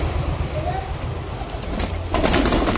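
Pigeons at home coo softly and continuously nearby, with a burst of rustling or wing movement near the end and a voice mixed in.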